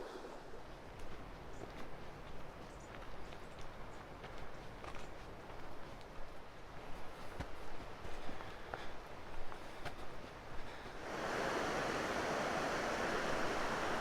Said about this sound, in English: This is the Tuolumne River.